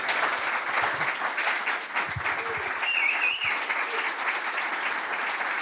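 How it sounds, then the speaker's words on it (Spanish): An audience claps steadily and densely for Pedro at the end of a talk on sound restoration, a warm, sustained round of applause with no talk over it. "Se viene el segundo aplauso para Pedro, entonces."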